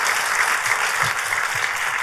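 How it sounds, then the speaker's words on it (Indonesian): A church congregation claps loudly and steadily, a thick continuous roar of many hands applauding throughout, close and even in volume. "Tepuk tangannya pula yang paling meriah buat Tuhan kita."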